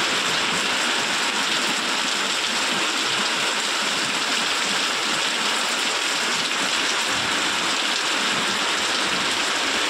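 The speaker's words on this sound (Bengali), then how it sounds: "এত জোরে বৃষ্টি পড়ছে" Heavy rain pours steadily and loudly for the whole stretch, a dense unbroken hiss of water with no voices, while flower plants bend under the downpour and runoff rushes past.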